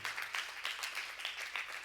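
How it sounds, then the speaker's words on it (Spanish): Church congregation clapping in steady applause, a dense patter of many hands that swells in repeated waves, moderately distant and fairly quiet. "Denle un fuerte aplauso al Rey bendito en esta noche."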